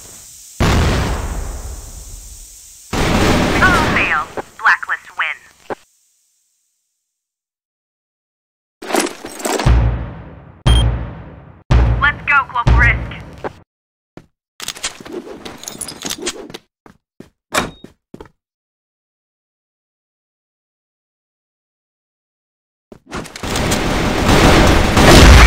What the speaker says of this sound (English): Flash bomb.